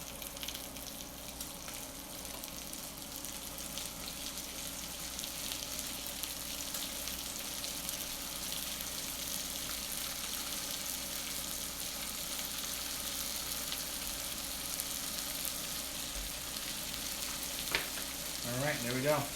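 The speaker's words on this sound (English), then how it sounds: "The goal here is to get those onions and that celery half sweated." Onions, celery and bay leaf sautéing in bacon fat in a pot for clam chowder, a soft, steady sizzle that runs evenly throughout, with a faint clink near the end.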